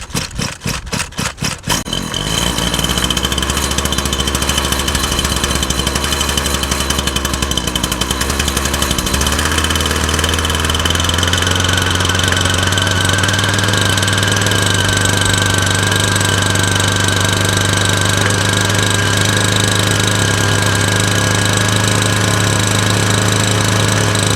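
Small carburetted gasoline engine on summer equipment being readied for winter storage, sputtering through a few uneven pulls, then catching and running loud and steady up close, with its idle note shifting slightly partway through.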